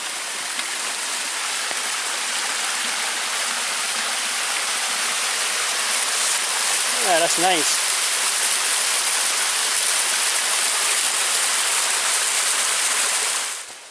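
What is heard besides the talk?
little stream and waterfall under a trail bridge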